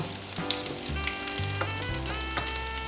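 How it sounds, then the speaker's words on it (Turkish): Steady crackling sizzle of breadcrumb-coated food frying in hot oil, dense popping throughout with no voices. "galeta ununu şöyle bırakıyorum kızartmaya"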